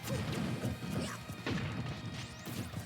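Mario's forward smash attacks in Super Smash Bros. Ultimate land as loud, punchy crashing hits, several heavy impacts with whooshing swings in quick succession over a busy game soundscape.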